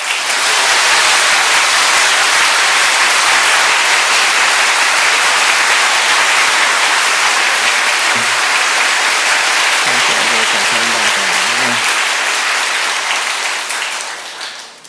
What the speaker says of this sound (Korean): 오늘 나오실 때 힘찬 박수로 환영하겠습니다.